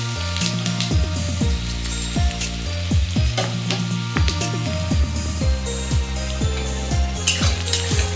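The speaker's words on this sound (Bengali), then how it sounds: "এই পেঁয়াজটা একটু ভালো করে লাল লাল করে ভেজে নেব" Onions and garlic sizzle steadily in hot oil, with repeated scraping strokes of a spoon stirring the pan.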